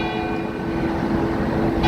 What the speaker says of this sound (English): I'll let the bells chime before I finish this.